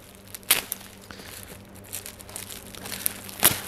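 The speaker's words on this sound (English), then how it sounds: "first let's try to get the tape up" Packing tape is worked up off a cardboard box around an orchid delivery, giving scattered crinkles, light tearing and sharp scratchy snaps at close range over a quiet background.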